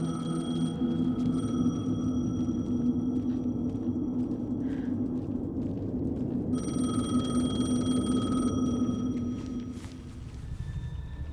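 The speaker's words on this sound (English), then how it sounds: "The payphone was ringing." A payphone rings in the video game Alan Wake 2 over a steady, heavy rumble, its bright tone holding almost continuously before cutting off near the end.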